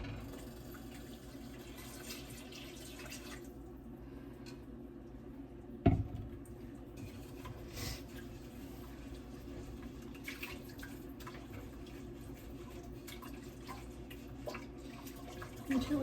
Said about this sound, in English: I'm going to pour my 2 cups of half and half in.